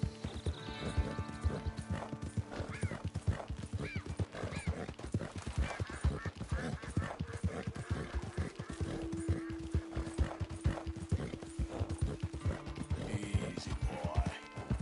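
Horse hooves clip-clop steadily in Red Dead Redemption 2, walking at an even pace amid busy game sound, with a neigh and a rider's voice over the hoofbeats.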